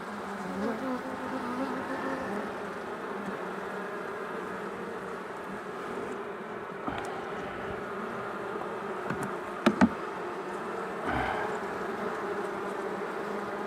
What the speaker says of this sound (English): And I got angry bees.